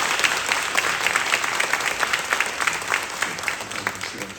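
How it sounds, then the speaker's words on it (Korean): A church congregation applauds at a youth-led dawn prayer service, dense steady clapping sustained throughout at moderate level with faint murmuring voices underneath. "우리 격려로 우리 박수로 우리 격려하겠습니다"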